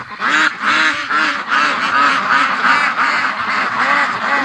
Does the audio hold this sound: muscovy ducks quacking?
yes